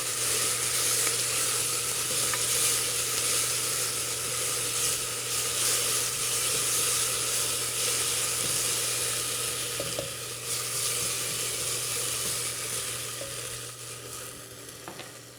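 Brown sugar caramelizing in a pot, stirred continuously with steady sizzling and frying hiss plus occasional scraping of the spoon against the bottom, close and constant throughout.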